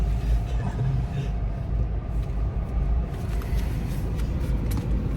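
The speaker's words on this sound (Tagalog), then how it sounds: "Traffic po eh. Parking pa lang to." Car traffic in a parking area in Manila, heard as a steady low rumble of engines that runs throughout at close range and fairly loud.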